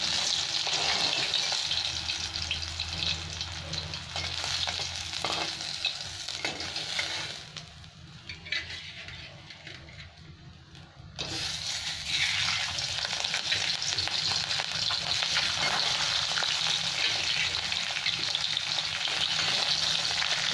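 Oil sizzles and crackles steadily as fish fries in a pan, with a brief quieter dip partway through before the loud frying resumes.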